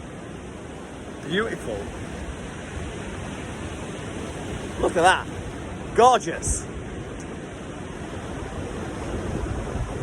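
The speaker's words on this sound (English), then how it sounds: "So the noise that you can hear in the background is the sea." Sea surf washes steadily in the background beside a beach, a constant soft roar under a few short spoken remarks.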